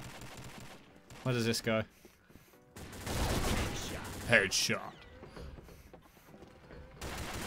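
Gunfire in the online shooter Combat Arms: Reloaded, with bursts of shots and mechanical weapon clatter in the middle of a busy match, mixed under a player talking.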